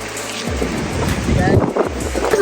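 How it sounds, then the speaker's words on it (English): Strong wind blows across a beach, a steady rushing roar with gusty buffeting on the microphone and low rumbles, continuing under people talking. "I don't know if you guys can hear me, but it's so windy."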